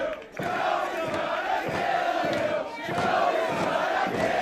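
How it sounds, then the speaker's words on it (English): A large wrestling arena crowd roars and cheers continuously, swelling in waves with rhythmic chanting surges. "Listen to this crowd."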